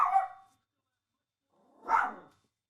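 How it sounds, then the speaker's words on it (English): A small chihuahua gives two sharp, close barks about two seconds apart, with silence between them. "Got a little chihuahua, and he thinks he has to bark at everything."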